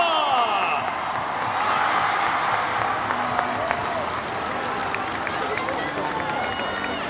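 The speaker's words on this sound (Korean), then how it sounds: "뜨거운 박수 한호성이 필요합니다." A baseball stadium crowd applauds and cheers during an on-field ceremony marking a pitcher's 100th career win, a dense, steady wash of clapping and shouting with a few whoops throughout.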